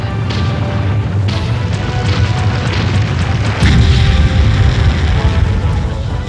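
A castle toy on a pinball machine playfield blows apart in a loud booming explosion effect, a sustained rumbling roar that swells heavier partway through, with dense crackling noise throughout.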